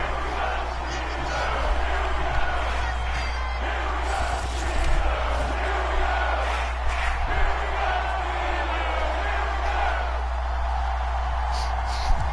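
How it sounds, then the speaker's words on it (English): A stadium crowd in a Pittsburgh Steelers versus Seattle Seahawks football video game roars after a field goal, a steady, loud wash of cheering and shouting that fills the whole stretch without a break. "This crowd going insane."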